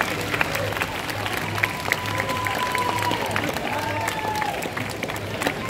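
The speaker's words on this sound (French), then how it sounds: "une main d'applaudissement pour tout le monde, y compris le jury" Applause from a cosplay show crowd thanking participants and jury, a sustained wash of clapping with a low hum underneath and a few sharper claps poking through.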